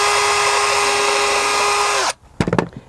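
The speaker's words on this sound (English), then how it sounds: "We'll just drill a small hole again." A power drill whines steadily at high speed for about two seconds while boring a small hole in door wood, then stops, followed by a few short knocks and clatters.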